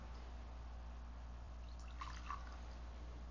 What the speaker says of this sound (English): By the mystery of this water and wine, may we come to share in the divinity of Christ